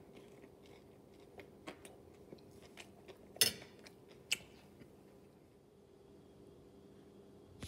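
Crispy breaded food from an air fryer toaster oven being bitten and chewed up close, a few faint crunches with one louder bite near the middle, quiet and without talk.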